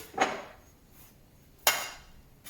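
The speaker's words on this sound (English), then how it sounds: "you hit the piece of round bar with a hammer and it will start to stretch the piece" Two sharp metallic hammer strikes on a piece of round bar ring out about a second and a half apart, each decaying quickly into quiet, while stretching a Ford Capri kicker plate.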